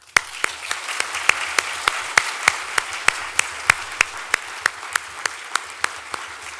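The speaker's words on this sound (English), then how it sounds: "our talented MC, Andrea Mitchell, a final round of applause." Audience applause at an awards ceremony, a loud, steady wash of clapping from a crowd indoors with a few sharp individual claps standing out rhythmically.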